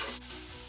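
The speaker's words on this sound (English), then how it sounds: "I have my hamburger all fried up and I drained it of the fat, and now I'm just frying it just a little bit more" Drained hamburger meat browning in a Dash mini skillet, a soft, close, steady sizzle with a faint stir scrape, brief and quiet.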